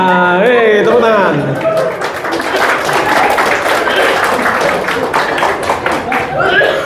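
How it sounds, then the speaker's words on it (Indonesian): Bootcamp participants at a first-aid session on using an emergency stretcher break into steady, close applause that fills the room for several seconds, with voices talking over the start and a mixture of clapping and chatter throughout. "Ya, tepuk tangan."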